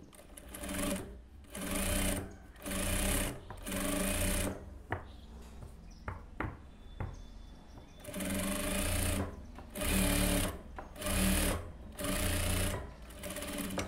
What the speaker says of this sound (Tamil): இப்போ வந்து இந்த ஒரு சைடு மட்டும் நான் தையல் போடுறேன்.